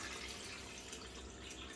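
Water poured into a bowl of wheat flour for dosa batter, a steady close splashing and trickling that runs unbroken the whole time, with no one talking.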